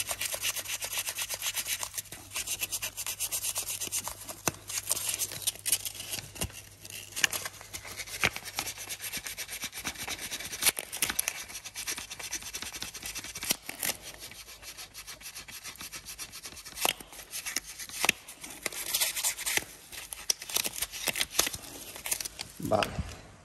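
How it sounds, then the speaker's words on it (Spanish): Wet 800-grit sandpaper rubbed by hand over a metal ground terminal from a BMW K1200S motorcycle, a steady close scratchy rasping that runs continuously with brief louder strokes and a few sharp knocks near the end. "lo que voy a hacer es lijar un poquito el terminado por las dos caras"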